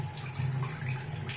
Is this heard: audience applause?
no